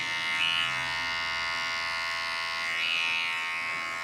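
An electric hair clipper set to zero buzzes steadily at the hairline on a low fade, its tone swelling briefly twice as it passes over the hair, with no talk.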